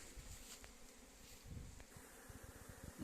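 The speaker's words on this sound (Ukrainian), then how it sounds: "Ось дивіться як на пасіці такий шумгам." Honeybees buzz densely all around an apiary, a steady swarming hum with individual insects droning past close by, quiet overall and with no voices.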